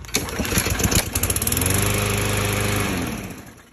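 Craftsman M220 lawn mower pull-started in one quick tug, with sputtering cranking bursts that catch into a loud, steady close engine run of about two seconds before winding down.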